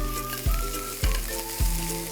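Onions and potatoes sauté in a pan with a steady, close sizzle, broken by three evenly spaced scrapes of a spatula stirring them.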